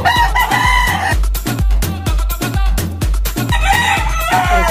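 Fighting cocks crow loudly and close, several long calls overlapping, while a steady rhythmic thumping beat runs underneath throughout.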